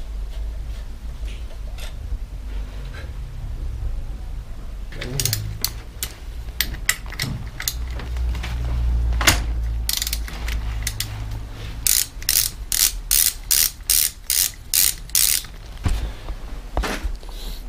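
A ratchet wrench loosens and unscrews the crank bolt on a Triumph bicycle with a faulty bottom bracket, giving a series of close, rapid clicking bursts, irregular at first and then in steady back-and-forth strokes.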